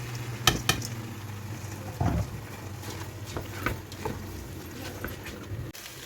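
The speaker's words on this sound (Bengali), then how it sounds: "আমার মশলার সাথে চাল ডাল ভেজে হয়ে গেছে" Rice and lentils fry with spices in a pan, a soft sizzle under scattered sharp clicks and scrapes of a spoon stirring, several louder knocks against the pan, no voices.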